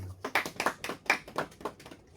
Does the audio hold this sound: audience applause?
yes